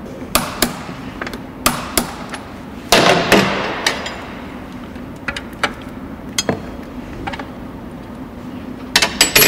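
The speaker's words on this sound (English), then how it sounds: "all we need to do now is to tighten up the rear axle to the specified torque." A motorbike rear axle being tightened with a torque wrench makes a series of sharp metallic clicks and knocks at irregular intervals, with a short burst of ratcheting, close and fairly loud against a quiet background.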